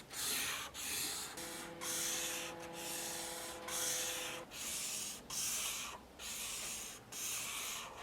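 A chisel-tip alcohol marker scratches across paper in repeated broad strokes, each a soft close rasp separated by brief pauses, with no talking.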